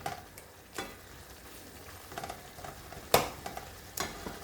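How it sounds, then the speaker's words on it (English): Chicken wings with eggs bhuna come to a boil in a pan, with a low sizzling, bubbling bed of sound. Scattered clicks and stirring knocks come through, with one sharper clatter near the end and no talk. "as you can see, it's boiling up"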